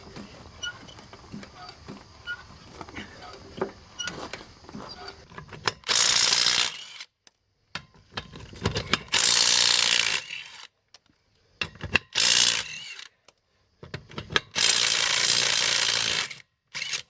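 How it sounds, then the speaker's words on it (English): Ratcheting jack raising a Bobcat 873 skid-steer loader to change a tire, with bursts of loud mechanical clatter separated by quieter pauses, close by and with no talk. "So I guess I'm gonna jack it up."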